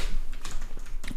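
Fast typing on a computer keyboard, close and steady, with a quick run of key clicks filling the moment while coding in a tutorial.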